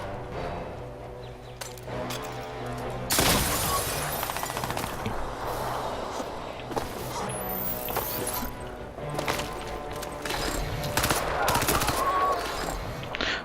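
Gunfire and a grenade blast in the shooter game Crysis 2, with dense, loud crackling shots throughout and a heavy burst erupting about three seconds in, followed by sustained rapid fire and clattering impacts.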